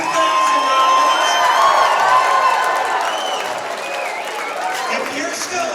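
A crowd at a fundraising auction cheers steadily with whoops and shouts throughout, loud and sustained, with voices mixed into the noise.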